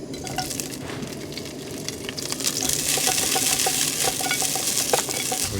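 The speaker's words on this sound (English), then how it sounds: "since this pan is already pretty hot, I'm just gonna go ahead and throw my broccoli in there now" Broccoli tossed into a hot oiled pan in a small kei truck camper kitchen sizzles and crackles, starting quieter and swelling into a steady, close frying hiss with scattered pops and utensil clinks, no voices.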